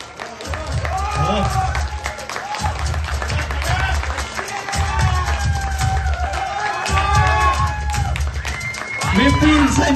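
Audience at a bodybuilding contest claps and cheers in a sustained roar, with rhythmic pulses of clapping, while an announcer's voice runs over the crowd throughout.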